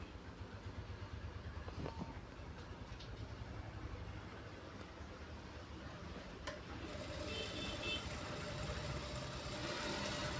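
A large sewing machine stitches piping at speed, a continuous low mechanical whir and rumble that grows slightly louder toward the end, close and steady without speech.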